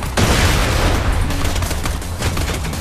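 Shotgun fire in Borderlands 2 during a boss fight: a dense, loud barrage of blasts and crackling gunfire runs continuously and close, thick with low booming energy throughout.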